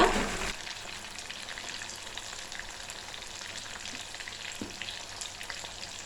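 Chicken pieces frying in oil over a medium flame, a steady, even sizzle running the whole time, close and fairly loud, with a brief louder burst at the very start.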